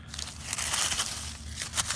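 Grapevine stems and branches being cut back in a garden, giving a continuous crunching, crinkling rustle of woody and leafy material close to the microphone, with no voices.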